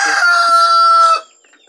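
A curly-feathered rooster at a grandmother's farm crows one loud, close, drawn-out call that cuts off cleanly, leaving near silence.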